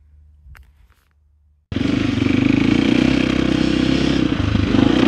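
A Yamaha FX350 dirt bike with swapped spring forks, heard up close: after a near-silent pause a loud, gritty engine roar bursts in and holds steady, dipping briefly near the end.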